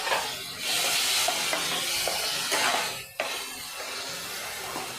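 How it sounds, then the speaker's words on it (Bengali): Water poured into fried masala in a pan for paneer matar, giving a loud continuous sizzle and hiss that drops sharply partway through. A brief clack follows, then quieter simmering. No one speaks. "এবার আমি আর একটু জল দিয়ে দিচ্ছি।"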